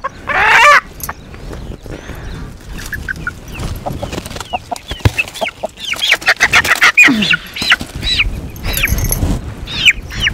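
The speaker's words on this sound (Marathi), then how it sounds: "तर ह्या अशा कोंबड्या आहेत त्या देशी" Native hens cluck repeatedly, close by, in a farmyard, with overlapping calls and short squawks from several birds and a brief loud cackle at the start.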